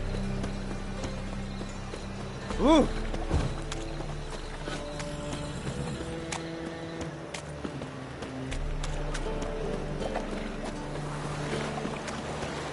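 Horse hooves gallop in The Witcher 3 video game, a steady rhythmic clip-clop running through the whole stretch under low game ambience, with one brief voiced exclamation near the start.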